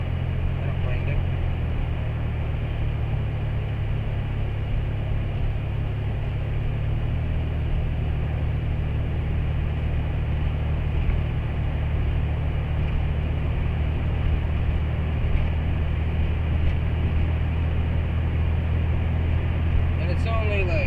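Steady low engine and road rumble inside a moving car, constant and moderately loud throughout with no talking.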